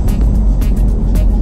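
Car driving through the Site 1 neighbourhood of Tema, Ghana, a loud close engine and road rumble with brief bursts of louder noise, no talk heard.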